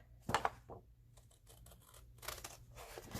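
Scissors cutting into paper near a score line while making a Santa-themed file folder, a few short close snips and crisp paper rustles separated by brief pauses, quiet with no talking.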